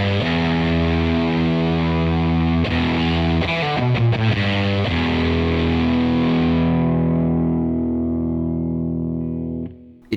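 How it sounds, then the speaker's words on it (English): Electric guitar driven through an overdrive pedal at full gain into the front of an amp, producing thick, sustained fuzz-like distorted chords, loud and alone, with a brief choppy rhythmic passage midway before ringing out and cutting off. "it drives the front of the amp in a really nice way, and you can almost get those sort of fuzz tones out of it"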